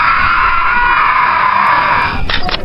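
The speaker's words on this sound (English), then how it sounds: "nothing gets in or out except for the screams when I release the switch" Loud, sustained shrill screaming meant as a ghost trapped in an urn, held continuously then breaking into a few short wavering cries at the end, with no other voices.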